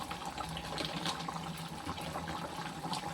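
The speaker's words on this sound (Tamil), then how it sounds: "குழம்பு நல்லா கொதிச்சுட்ருக்கு" Garlic tamarind curry (puli kuzhambu) simmering in a pot, a faint, continuous bubbling and gurgling of liquid with no talk.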